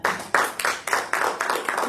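A church congregation claps in a quick burst, a series of sharp, dense rounds of applause starting together and repeating in close rhythm, with no talk over it.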